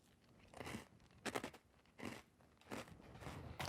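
Close, loud crunching of Oreo cereal being chewed, in four or five bursts of dry crackling bites with short pauses between them, no talking.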